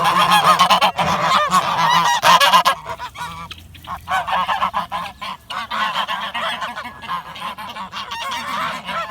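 A flock of sixteen brown and white Chinese geese honking loudly and continuously nearby, their harsh calls overlapping, easing briefly before picking up again.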